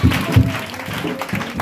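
A church congregation claps in a short burst of applause, dense and close, with a few voices mixed in.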